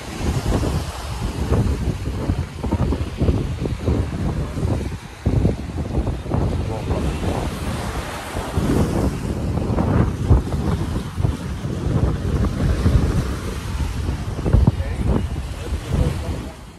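Strong wind gusts buffet the microphone at the Mumbai seaside, a dense continuous roar with surf and water noise underneath, loud and close throughout, with people talking over it.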